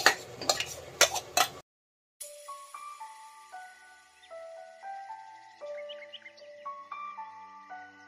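A spoon clanks and scrapes in a pan as marinated jackfruit is stirred into fried onions for jackfruit biryani, a few sharp metallic strikes in the first second and a half, then soft music.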